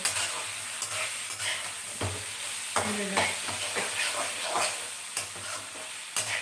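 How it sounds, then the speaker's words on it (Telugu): Ingredients frying in a pan with steady close sizzle, broken by periodic stirring scrapes and clinks throughout. "దీన్ని కొంచెం వేయించేయాలి ఈ వాసన అంతా పోయే వరకు వేయించాలి"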